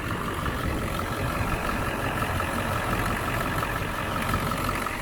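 A 2002 Ford F350 with a 7.3 Powerstroke diesel, stock airbox and exhaust, idles steadily with a low, rumbling drone that stays constant throughout, fairly loud and close.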